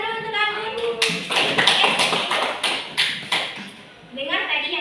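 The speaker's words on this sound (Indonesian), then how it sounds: "Tepuk tangan dulu untuk Anggun" A small group claps for a girl named Anggun in a classroom setting, a short burst of scattered, fairly close hand claps between stretches of talking.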